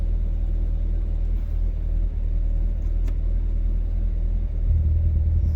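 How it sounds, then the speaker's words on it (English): Steady low exhaust rumble from a 2019 Chevrolet Corvette Z06, continuous and fairly loud, swelling slightly deeper near the end. "You can hear the exhaust change."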